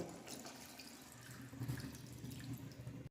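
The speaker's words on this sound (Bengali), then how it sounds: "এখন পরিমাণ মতন জল দিয়ে দেবো" Water is poured into a cooking pan with mustard paste for a Bengali eggplant curry, a short steady splashing stream that grows fuller midway and then stops abruptly.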